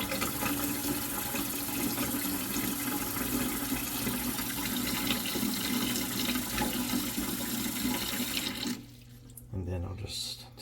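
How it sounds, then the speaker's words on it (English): Cold tap water running steadily into a pot for hard boiled eggs, a loud continuous rush and splash that stops abruptly near the end, followed by a brief quieter trickle. "And I'll fill it this way with cold water."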